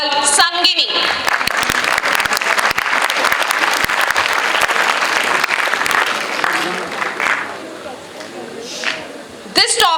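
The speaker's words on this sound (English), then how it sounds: "let's give a huge round of applause to each other" Audience applause at an International Women's Day celebration event, a dense sustained clapping crowd that holds steady for about eight seconds, then thins and tapers before a brief final burst.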